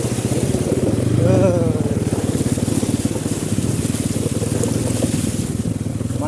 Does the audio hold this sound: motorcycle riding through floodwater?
yes